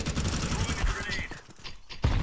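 Rapid gunfire in the game Counter-Strike 2, dense bursts of shots at the start, a brief lull, then another loud burst near the end, with a voice talking over parts of it.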